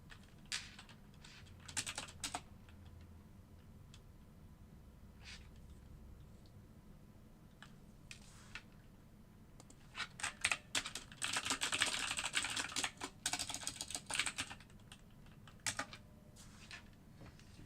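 Fingers type on a computer keyboard in bursts, with scattered single keystrokes early, then a dense run of rapid clicks through the middle and trailing taps near the end, all close and fairly quiet.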